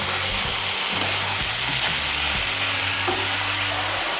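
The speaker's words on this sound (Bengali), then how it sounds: "আঁচটা বাড়িয়ে দিয়ে একটু নাড়াচাড়া করে নিয়ে" Bottle gourd greens curry sizzles loudly in a hot pan while being stirred, a dense continuous frying hiss layered with repeated scraping and knocking of a spatula against the pan.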